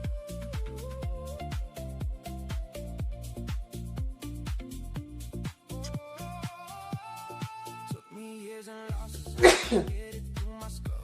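A single loud sneeze bursts out near the end, over continuous plucked, rhythmic background music during a live futures trading stream.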